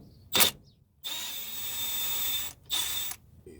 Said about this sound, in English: I use my 1/2 inch or right angle impact.